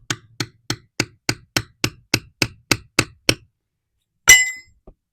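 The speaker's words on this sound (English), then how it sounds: "I'm trying to hammer it in so it'll bite in" A hammer strikes a metal gate anchor into wood about a dozen times in an even, sharp rhythm, loud and close, then a single harsher clang follows after a pause.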